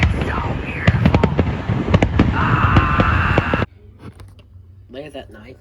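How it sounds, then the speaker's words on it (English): Fireworks burst in a rapid, loud series of cracks and pops with crackling trails during a Fourth of July night display, then cut off abruptly to a quieter stretch with faint voices. "Those are some great fireworks."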